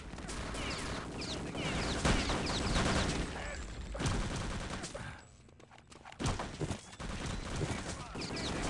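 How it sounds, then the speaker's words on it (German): Rapid gunfire bursts crackle from Return to Castle Wolfenstein in a 6-on-6 match on the mp_ice map, repeated volleys near and loud with a brief lull, under German commentary. "Cliffstark hier noch im Angriff, wird aber auch von hinten erschossen."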